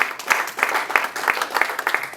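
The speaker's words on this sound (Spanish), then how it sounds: "Demos un buen aplauso a Carla." A congregation applauds during a Spanish-language church service: a short burst of steady, dense clapping from many hands, loud and close, with a voice faintly mixed in.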